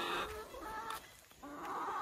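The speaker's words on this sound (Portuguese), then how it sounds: "Vou mostrar pra vocês minhas galinhas." Hens on a small rural farm cluck and call softly at moderate distance, their short bursts coming over quiet outdoor background.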